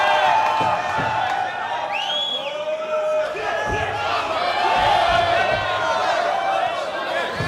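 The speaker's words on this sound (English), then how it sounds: "Crowd really loving this performance so far." Spectators cheer and shout continuously at the Yang Zhuo vs Kenny Yeung MMA fight, with a commentator talking over the steady roar.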